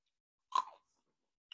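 Crunchy chewing of sesame snacks, one close burst of crisp bites lasting about a quarter second, then silence and a faint brief crunch near the end; no talking.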